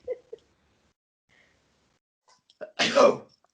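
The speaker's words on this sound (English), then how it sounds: "I'm gonna sneeze." A single sharp sneeze from hay fever breaks the near silence, following a couple of soft breathy sounds.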